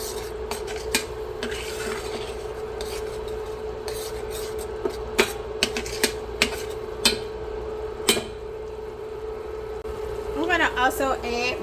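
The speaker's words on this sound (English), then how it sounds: "All right, let's give that a stir as well" Onion powder being stirred into a pork chop seasoning mix, a dry scraping and rubbing with a few sharp clinks of the utensil against the bowl, set against a steady background hum, with a voice talking briefly near the end.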